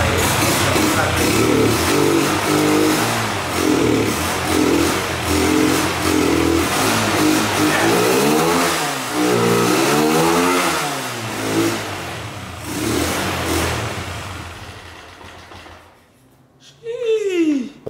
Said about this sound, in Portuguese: Faz tanto tempo que não liga essa motinha, mano. Não sei não se ela vai ligar